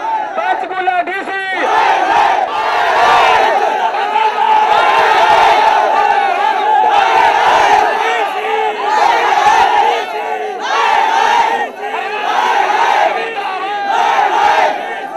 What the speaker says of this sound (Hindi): कॉलोनी के सभी लोग मौके पर इकट्ठा हो गए और अतिक्रमण ना हटाने के लिए विरोध करने लगे